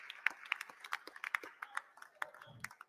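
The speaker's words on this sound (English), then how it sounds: "Let's get a round of applause, please, for Michael Buffer." A small audience at a boxing press conference claps for the ring announcer, a sparse, fairly faint patter of separate hand claps that thins out, with a low murmur at the end.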